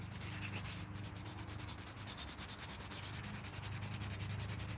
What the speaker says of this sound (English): For the most part, the sanding feels pretty good.